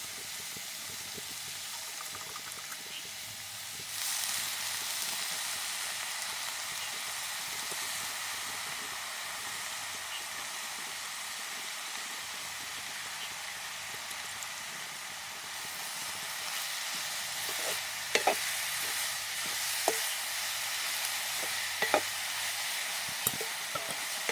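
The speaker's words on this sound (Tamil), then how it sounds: "இந்த வாழைப்பத்தி வறுக்க முருங்கை இலையில சண்டி இலை அகத்தி இலை அப்படி ஏதாவது ஒன்று சேர்த்து வறுத்தா நல்ல டேஸ்ட்டாக இருக்கும்" Chopped banana flower frying in a pan with leaves, a steady close sizzle that jumps louder after a few seconds and carries on evenly, with a few stirring clicks near the end.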